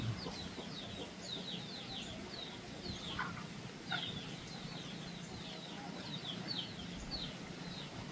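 Farm chickens waiting for feed cluck and chirp repeatedly in short bursts, close and moderately loud over a low background hum, with occasional speech.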